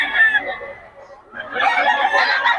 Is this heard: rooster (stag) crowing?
yes